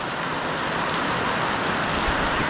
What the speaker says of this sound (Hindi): सुबह इतना धूप था अभी बारिश देखो